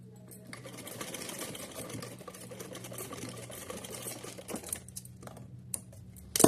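Sewing machine stitching cotton fabric for a Laddu Gopal outfit, a continuous close rapid mechanical whir with light clatter, steady throughout with a few brief knocks near the end.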